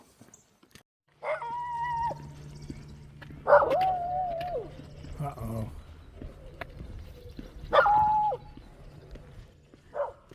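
A dog lets out a few spaced barks and yelping howls at a moderate distance, with a brief spoken exclamation nearby and quiet background hum.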